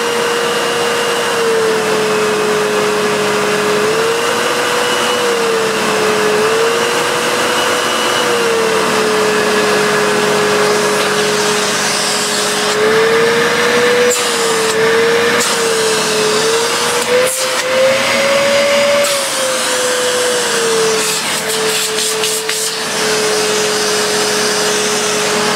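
A Hoover Purepower U3456 Autosense upright vacuum cleaner runs steadily and loud, its motor whine dipping and rising slightly as the power setting changes, with a few brief clicks near the end.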